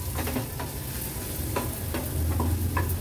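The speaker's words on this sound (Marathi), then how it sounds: "हळद व्यवस्थित मिक्स करून घेते" A spoon stirs turmeric around a hot, sizzling pan while a leafy vegetable dish is being cooked, giving a steady frying hiss broken by soft scraping strokes, close up with no talking.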